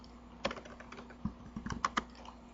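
Computer keyboard typing in short irregular bursts of clicky keystrokes, close up and fairly quiet, with a denser flurry of taps toward the end.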